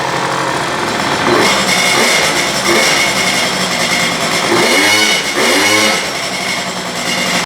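Baja scooter with a buggy-style build starting after electrical work on the starter and ignition, a loud, close, rattling small engine idling roughly and then revving in two rising and falling bursts.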